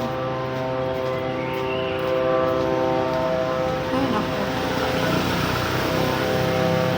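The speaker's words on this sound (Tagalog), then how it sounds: "So, pag-ingay ng drone talaga. Lakas." A drone flying close overhead gives a loud, steady propeller whine with buzzing harmonics that swells slightly partway through, and a person briefly exclaims over it.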